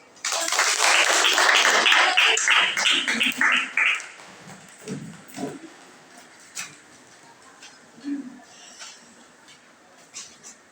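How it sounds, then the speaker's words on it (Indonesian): A burst of clapping from a group, rhythmic and lively for a few seconds, then fading into scattered taps and a murmur. "Tepuk tangan"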